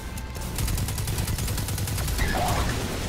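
Rapid gunfire from Destiny 2 during a strike in the Inverted Spire, loud and sustained as a steady stream of repeated shots, with a brief higher burst of effects near the end.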